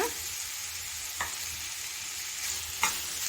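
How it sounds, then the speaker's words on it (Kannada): Mashed potatoes being stirred into softened onions in a pan: a couple of brief scraping strokes over a steady, low frying hiss, fairly quiet and close. "ಸೇರಿಸ್ಕೊಂಡು ಚೆನ್ನಾಗಿ ಮಿಕ್ಸ್ ಮಾಡ್ಕೊಳ್ಳೋಣ"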